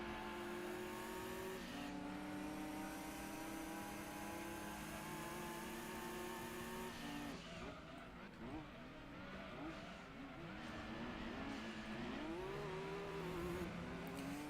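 Race car from the Gran Turismo 2 video game cornering, a steady loud engine drone with shifting pitch and brief tire squeal, heard continuously with faint talk underneath.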